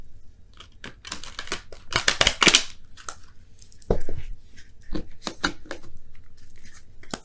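Rapid crisp snapping and riffling of tarot cards being shuffled, close up, in quick bursts with a louder flurry midway and short pauses between.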